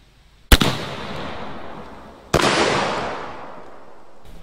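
Two sharp, loud shotgun blasts about two seconds apart from a Zeus 12 gauge firing one ounce of shot at a target 50 feet away, each with a long outdoor echo tail.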